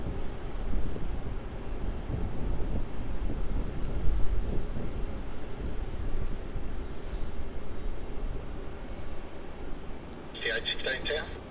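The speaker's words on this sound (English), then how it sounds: "first I'm going to film this Air NZ takeoff" An Air New Zealand airliner takes off at Melbourne Airport as a distant, steady jet roar blended with wind noise, with a voice speaking faintly in the background.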